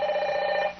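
A telephone rings inside an office at a county courthouse in Cuero, Texas, giving one short, loud electronic trill that stops abruptly, heard alone.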